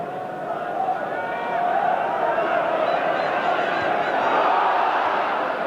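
Football crowd at a 1989/90 FA Cup third-round match between Blackburn Rovers and Aston Villa, a broad, sustained roar of cheering that swells slightly and holds, heard from within the stadium.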